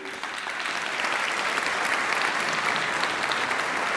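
A ceremony crowd gives sustained, dense applause for youth award winners at a digital literacy prize event, the clapping swelling slightly and holding steady at full volume.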